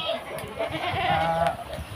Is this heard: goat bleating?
yes